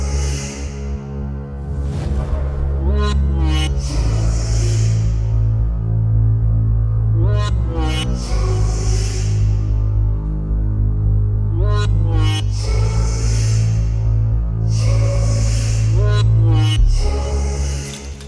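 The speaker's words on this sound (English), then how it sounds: "It is officially unplugged and we are swapped over to our new gas dryer." A gas-fired screen printing tunnel dryer runs with a loud, steady low hum and throbbing drone, while bright whooshing bursts and squealing tones rise and fall over it in repeated waves.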